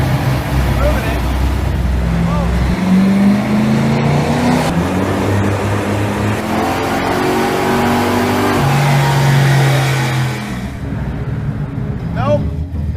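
Car engine roaring through a dyno pull with cold oil, transmission and rear end, revving up in rising sweeps, dropping, then climbing again before easing off near the end, loud and close, with people talking and shouting over it.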